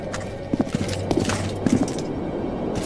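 Roach the horse trots along in The Witcher 2, with sharp hoof clip-clops landing in small clusters over a busy, ambient game soundscape, close and moderately loud.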